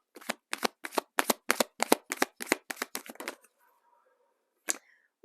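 Tarot cards being shuffled in a rapid run of about a dozen crisp riffling bursts, close and fairly loud, then a pause with a faint hum and a single last snap near the end.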